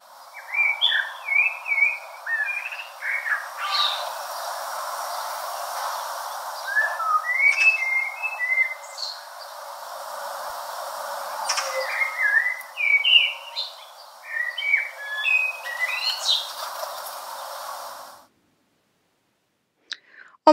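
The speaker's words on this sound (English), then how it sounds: "Blackbirds have a beautiful song and are the sound of warm, sunny days in the garden to me." A Eurasian blackbird sings in a garden: short, clear whistled phrases repeat every few seconds over a steady outdoor hiss, moderately close, with no talking, before the sound cuts to near silence at the end.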